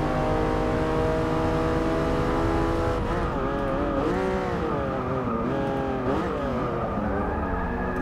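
A Porsche 911 Turbo S engine roars through a race in Forza Motorsport 6, holding a steady loud drone before revving up and down through gear changes, with tire squeal mixed in.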